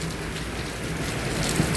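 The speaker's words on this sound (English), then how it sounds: "we were sat near the rain, that it was very heavy" Heavy rain pours steadily and loudly in a broadband wash, no voices, beside a sleeper bus on a journey to Hoi An, with a faint low rumble underneath.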